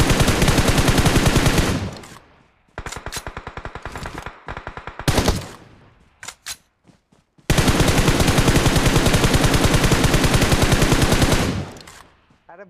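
Rapid automatic gunfire in a shooter video game, long loud bursts broken by gaps and short stuttering volleys, close and continuous with no voices over it.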